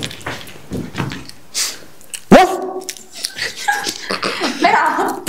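A person imitates a dog, giving a sharp loud bark followed by yips and whimpering sounds, close up, with other people talking and laughing around it.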